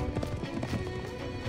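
Horse hooves clip-clop in a quick uneven rhythm with a neigh in the Wulverblade video game, close and fairly loud over a busy game soundscape.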